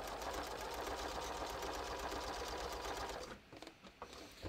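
A sewing machine runs steadily, understitching a bathrobe seam about 1/8 inch from the seam line, a continuous close whir lasting several seconds before it slows and stops with a few faint mechanical ticks.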